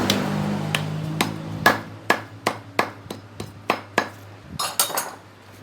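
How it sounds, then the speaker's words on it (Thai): Hammer driving a new front fork oil seal into a Honda Wave motorcycle fork tube: a steady series of about a dozen sharp metallic knocks roughly every half second, close and loud, with a faint hum beneath. "หลังจากเราตอกเสร็จแล้วครับ"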